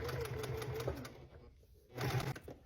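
A sewing machine stitches fabric and then backstitches, a close, rapid mechanical whirring that pauses briefly before starting up again at an even pace.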